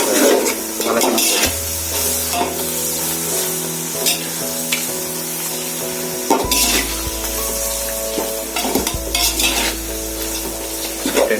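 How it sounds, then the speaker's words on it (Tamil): Coriander leaves fry and get stirred in hot oil for turkey biryani, loud crackling sizzle with spatula scrapes against the pot, close up and without talk. "கொத்தமல்லியில் தண்ணி இருந்துச்சுன்னா எண்ணெயில் படும்போது தெரிக்கும்"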